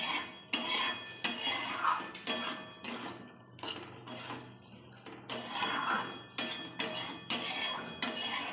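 Spice paste being stir-fried with a little water in a pan for a Bengali ridge gourd and fish curry, heard as repeated close scraping and clinking of a metal spoon against the pan in steady strokes.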